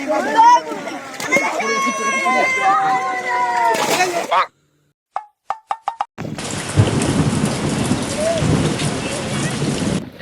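Heavy monsoon rain pours outdoors near fields during crab catching. People talk first, then after a short pause a dense, steady roar of rain fills the rest, without clear thunder claps.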